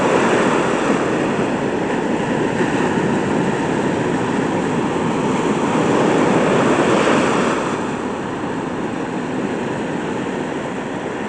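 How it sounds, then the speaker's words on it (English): Large ocean waves break continuously on a shore, a loud, steady roar of surf with wind, easing slightly near the end, with no voices. "Pretty big waves."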